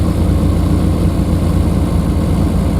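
An MGB GT engine idles fast at about 1500 RPM on a cold morning with the choke out, a loud, steady, close low rumble with no talking.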